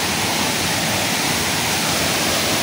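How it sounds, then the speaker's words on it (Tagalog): Balagbag Falls heard up close: a loud, steady roar of heavily falling water that fills the whole clip without a break. "Lapitan natin para makita ang lagaslas ng falls."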